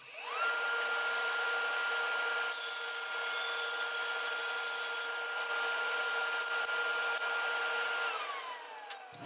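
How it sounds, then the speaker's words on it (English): A power saw rips along wood stock for a tenon, one steady whining cut lasting several seconds with a high sustained tone that rises at the start and trails off at the end, close and loud, no talking. "So let's go ahead and rip this stock."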